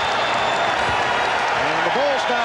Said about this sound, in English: the Bulls now hearing it from the crowd